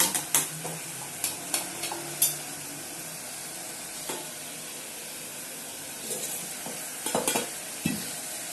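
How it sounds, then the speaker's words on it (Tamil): A spoon stirs and scrapes brinjal (kathirikkai) kulambu in a pan, making sharp, irregular metallic clicks and scrapes over a low, steady sizzle, busiest at the start and near the end. "இது மாதிரி நல்லா கிளறி கிண்டி விட்டுக்கணும்."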